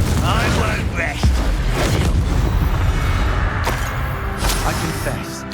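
A Confringo fire spell explosion in the Hogwarts Legacy video game on PS5, a sustained loud blast with booming rumble and crackling bursts, under voices.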